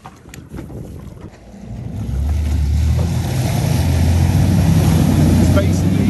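A Prime NINE41 / A683 boat runs flat out toward its 59-knot top speed through winter swell, the engine roar swelling to a loud, steady drone mixed with heavy wind buffeting and water rush.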